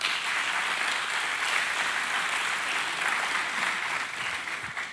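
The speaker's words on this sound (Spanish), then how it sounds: "Démosle un aplauso al Señor." A church congregation claps together during a Sunday sermon, a dense, sustained burst of applause that holds steady and tapers slightly at the end, with no talking over it.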